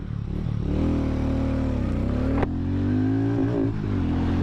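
Hero Mavrick 440 motorcycle pulling away in first gear, a steady loud engine note rising as it revs, with a brief sharp click partway through and no voices.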